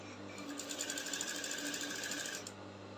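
A sewing machine stitches fabric pieces of a drop-shoulder bustier, a quiet, rapid, even mechanical chatter running close by for about two and a half seconds before stopping.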